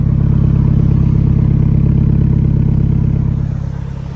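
A 2019 Renault Megane IV RS Trophy hatchback with a 300 hp engine idles steadily in race mode, a loud, close, continuous deep burble with a fast pulsing rhythm that eases slightly at the end.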